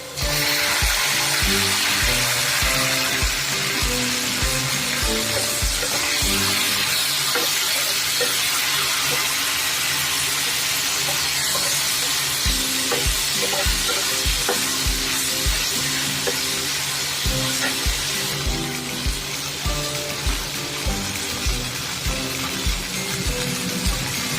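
Ground spice paste sizzles loudly and steadily as it fries in a pan for a Bengali bhola fish curry, with a dense hiss punctuated by rhythmic knocks from a spoon or spatula striking the pan.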